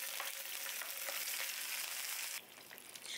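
Chicken marinade frying in oil with crisped garlic, a dense close hiss and crackle that drops abruptly near the end, then continues more softly, with no speech.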